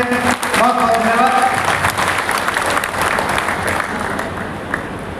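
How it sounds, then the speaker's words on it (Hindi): A crowd at a BJP party workers' conference held in a private palace in Babain breaks into loud, sustained applause right after a brief spoken line, with dense, continuous clapping that fades slightly toward the end. "सभी तालियां बजा करके स्वागत करें।"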